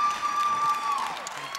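A high school wrestling crowd from North Penn roars and applauds in a gym, calling for a pin, with a dense, loud wash of cheering and a steady high whistle-like tone over it.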